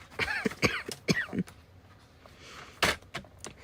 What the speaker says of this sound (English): Every time I thought I was able to go back on live, I started coughing again.